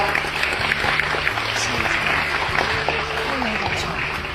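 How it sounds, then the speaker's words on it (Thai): Applause from an audience welcoming film director Peter Chan at a Q&A event, steady dense clapping throughout with a low hum and crowd murmur beneath. "ขอเสียงปรบมือต้อนรับคุณปีเตอร์ชาญครับ"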